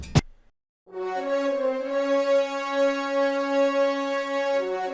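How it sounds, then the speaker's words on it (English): A short percussive hit, then a brief gap before sustained, rich brass chords swell in and hold steadily, like a section of French horns playing together, with no talking. "Then I played in some French horns"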